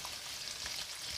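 Onions frying in hot melted ghee: a faint, steady hissing sizzle, brief and close, with no talk.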